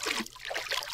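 Water being collected in Reign of Kings, a short, close trickling and splashing of liquid with uneven bubbly pulses and no talking.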